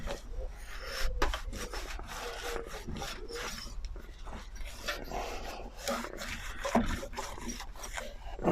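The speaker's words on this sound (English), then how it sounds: "just get your microfiber, just sort of like give it a buff" A microfiber cloth buffs the body of a salvaged Mountfield lawnmower in quick, repeated rubbing strokes, close and fairly soft.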